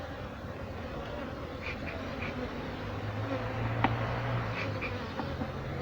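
Honey bees drone softly and steadily from an opened backyard hive in Jamaica, a low continuous hum with a few faint clicks and knocks from the hive work.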